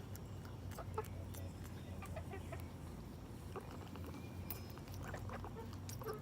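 An Easter Egger hen clucks softly and repeatedly close by, with a few sharper peeps and short calls over a steady low background hum.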